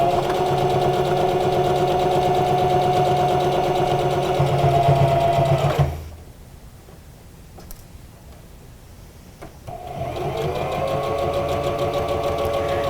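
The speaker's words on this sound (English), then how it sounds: "We're just going to stitch all the way around and close it off." A sewing machine stitches around the edge of a homemade fabric mask, a steady close mechanical whir that stops for several seconds and then starts up again.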